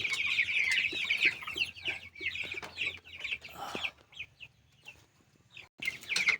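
A flock of about 80 young chickens, 45 days old, clucks and chirps in a pen while eating madre de agua leaves; the calls overlap fairly close and continuous, with a faint low hum underneath.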